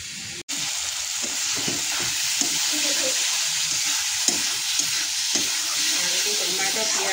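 Spinach greens fry in a hot pan with a constant sizzle, while rhythmic stirring scrapes repeat over it at close range.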